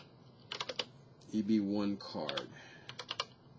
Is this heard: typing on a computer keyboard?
yes